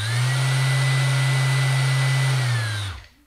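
A Mirka electric sander runs at a steady, loud whirring pitch under paddle speed control, then spins down and stops near the end, with no voices.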